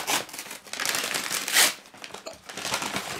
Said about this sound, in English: let's open these paper bags